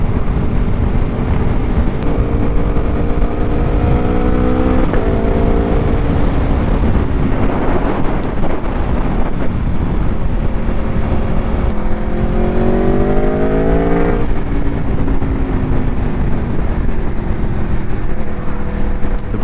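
A 2024 Aprilia Tuono V4 1100 Factory motorcycle on a test ride, its V4 engine repeatedly climbing through revs and shifting gears under heavy, constant wind rush, close and loud throughout.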